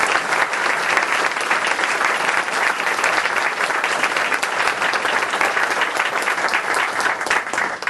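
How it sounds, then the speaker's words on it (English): A school board meeting audience gives a big, sustained round of applause for the 2015 champion Scholar Bowl team, dense, even clapping throughout with no voices over it. "So let's give them a big round of applause."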